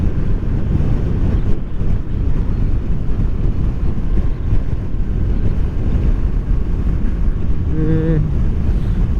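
Strong wind buffets the microphone with a constant low rumble throughout, and a brief faint tone sounds near the end.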